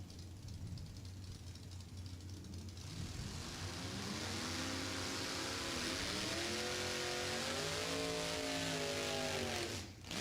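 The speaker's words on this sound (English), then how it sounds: "Patrick Canal, 355 cubic inches worth of small block in 33 Willys pickup" A 33 Willys pickup with a 355-cubic-inch small-block engine idles at a drag strip, then rises to a loud, sustained roar as it revs and pulls away, steady and close.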